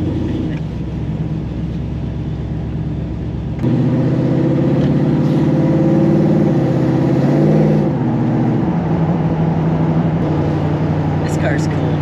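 A 1968 Camaro SS V8 engine on a test drive, a steady loud low rumble that swells into a stronger, throatier pull partway through, then eases back to a cruising drone, with occasional voices over it.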